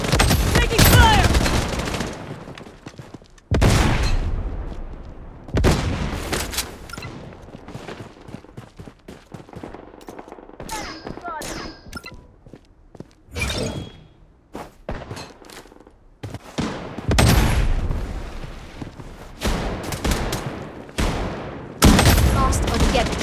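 Gunfire crackles in the shooter game Blood Strike, with bursts of automatic fire and single shots in an uneven rhythm, loud and near, broken by quieter gaps.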